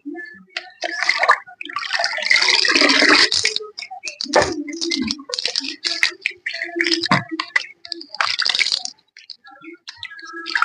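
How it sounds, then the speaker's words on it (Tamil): Water is poured onto garden plants in uneven splashing bursts and trickles, close by, with short pauses between pours. "நம்ம தண்ணி இப்போ தான் ஊற்றணும்."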